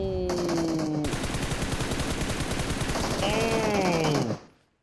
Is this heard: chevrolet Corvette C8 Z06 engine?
no